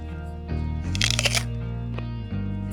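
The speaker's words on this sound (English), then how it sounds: "I love the crunch." A fresh apple bitten into, giving a short, close, crisp crunch in the middle, followed by chewing and faint mouth sounds against a steady low background hum.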